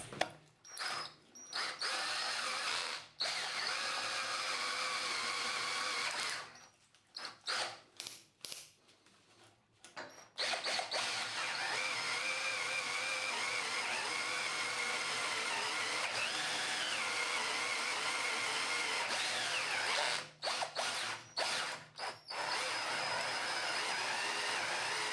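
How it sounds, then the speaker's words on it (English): A cordless drill with a hole saw cuts through thick steel, a loud, sustained whining grind broken by several short pauses where the trigger is released, all close up with no talking. "That is quite a thick piece of steel to be using an hole saw on, especially in a cordless drill."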